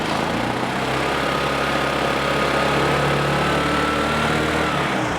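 A Y2K-era Vespa ET4 scooter, warmed up, its small engine humming loudly and steadily up close in a continuous droning run with no other sounds.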